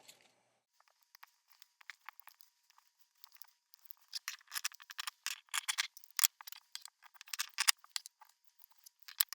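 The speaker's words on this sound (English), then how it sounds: "take my pattern piece, lay it down, then I'm going to pin it all the way around and cut it out with a 1/4 inch seam allowance" Scissors cutting fabric around a pinned sewing pattern piece: sparse snips at first, then a denser run of crisp snipping and rustling, close and fairly quiet, with no voices.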